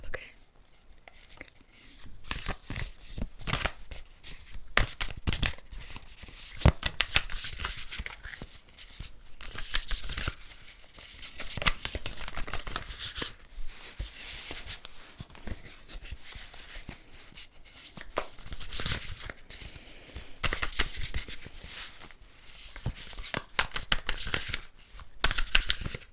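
A deck of tarot cards is shuffled continuously and up close in a quiet room, a steady papery riffle and slide running the whole time with small rustling peaks and no pauses.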